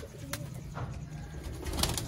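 Soft, low coos from Sialkoti pigeons murmur close by over a steady background hum, with a few faint chirps mixed in.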